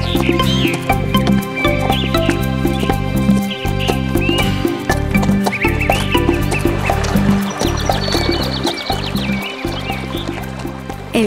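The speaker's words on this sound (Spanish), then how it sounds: "¡Vamos, caballo! ¡Empieza a caminar! ¡Cruza ese puente!" Horse whinnying and clip-clopping at a walk in a children's Spanish Rapunzel story scene, with repeated hoof beats under a neigh and a busy layer of animated sound effects and music.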